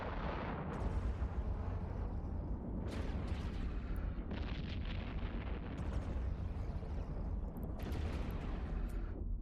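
Artillery fire in a game, a steady dense roar of continuous blasts with several sharper bursts standing out, loud and filling the whole stretch.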